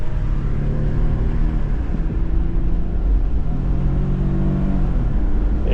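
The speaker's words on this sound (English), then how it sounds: "I just did a burnout with a Camry on a bunch of gravel." A Toyota Camry with lost throttle control spinning its wheels in a burnout on gravel: a loud, close, steady engine roar with rising and falling revs and a constant rumbling wash underneath, with no voices.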